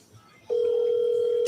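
Steady telephone dial tone heard while calling Grandma, switching on abruptly after a short quiet moment and holding loud and unbroken to the end.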